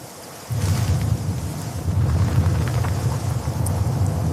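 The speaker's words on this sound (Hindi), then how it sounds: "आसमान जोर से गरज उठा।" Thunder rolling across the sky: a sudden deep rumble that swells in and keeps growling low and loud, with scattered crackles on top.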